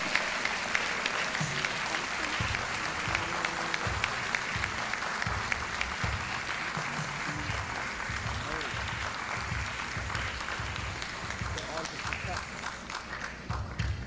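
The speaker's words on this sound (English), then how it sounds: "let's welcome them with a big round of applause" A pageant audience gives a long round of applause as senior contestants are welcomed on stage, fairly quiet and distant, with a voice speaking over the clapping and some low thumps underneath.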